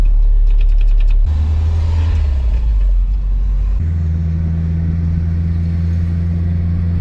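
Rebuilt Nissan 300ZX driving on a test drive, a steady low engine drone with shifting rumble as it changes pitch, loud and continuous inside the car with no talk.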